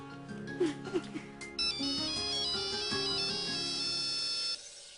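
A phone ringtone plays a repeating electronic melody, clear and steady, after a few brief clattering sounds at the start.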